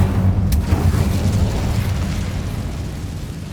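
An Incendio fire spell goes off in the Hogwarts Legacy video game as a loud, close whooshing burst with a sharp crack early on, then a steady roaring rumble that slowly fades.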